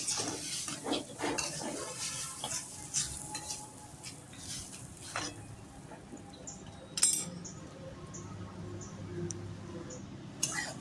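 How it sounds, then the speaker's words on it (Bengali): Lentils are dry-frying in a pan on low gas for khichuri, with soft rustling and sizzling and intermittent scrapes and clinks of a spoon stirring against the metal. The sounds are fairly quiet, with a little faint speech. "গ্যাসের সিমটা একটু কমিয়ে দিয়ে ভালো করে ডালটা ভেজে নিতে হবে"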